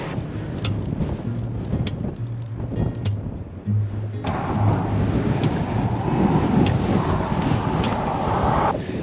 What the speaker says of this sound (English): The headwind is continuous.